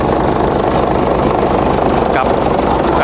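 A Hino HO7D 195-horsepower diesel truck engine runs loudly nearby with a dense, steady clatter and rumble, holding a constant idle throughout.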